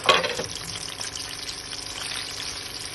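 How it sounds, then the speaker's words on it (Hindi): Gond (edible gum) roasting with flaxseed in a pan gives a steady, close sizzling crackle, loudest at the start and then holding an even level with no talk. "अब ये 4 गूंदे इसमें रोस्ट कर लेते हैं"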